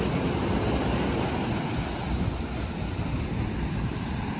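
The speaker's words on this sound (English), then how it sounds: "Nice waves for surfing, that's for sure." Ocean surf rolls in at La Lancha in Nayarit, Mexico, a continuous broad roar of breaking waves mixed with wind buffeting the microphone, with no voices.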